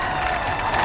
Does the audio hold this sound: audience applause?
yes